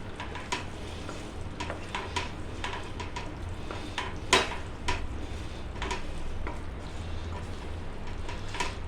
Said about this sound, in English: So time to put in the peas. That's about 1/2 cup of peas. Again, give it all a good mix.